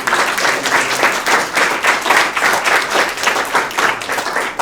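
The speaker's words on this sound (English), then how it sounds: "can we just have a separate round of applause for these guys?" Sustained audience applause at a 2019 awards speech, dense clapping filling the room steadily for several seconds with no voices on top.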